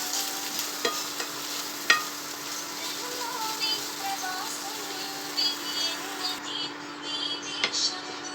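Onion frying with crushed cumin, garlic and green chili sizzles softly in a pan while a spoon stirs it, giving a faint steady crackle with occasional scraping clicks.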